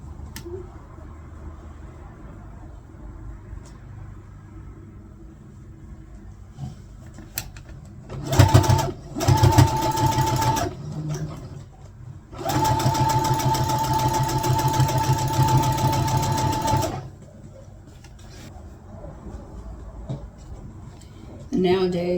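A sewing machine runs in two bursts, a short stitching run and then a longer steady whir, as a liner is sewn into a bag; quiet stretches between the runs carry faint room noise.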